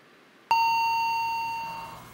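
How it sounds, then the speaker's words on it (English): A doorbell rings loudly once, a sharp tone that starts suddenly and rings out slowly for about a second and a half, heard alone in a quiet room. "That's a doorbell."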